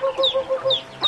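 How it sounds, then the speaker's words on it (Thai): Chickens at feeding time give a close, loud run of rapid rhythmic clucks, about five short calls in a second, with a few higher squawks mixed in. "เดี๋ยวนะแม่อ้อยเมือนให้ข้าวไก"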